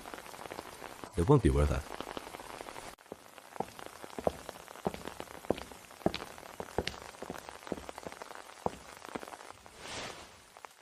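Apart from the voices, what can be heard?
rain falling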